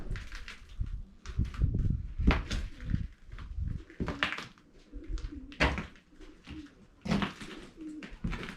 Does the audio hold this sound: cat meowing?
no